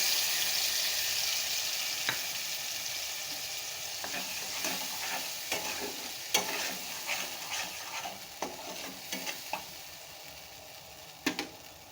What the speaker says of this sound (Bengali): অল্প একটু ভেজে নেব।